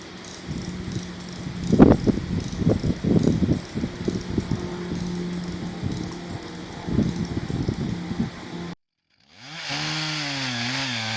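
A Maasdam rope puller is cranked while tensioning a rope on a tree being felled, giving repeated ratcheting clicks and creaks in bursts over a loud chainsaw-like engine drone, which cuts off near the end.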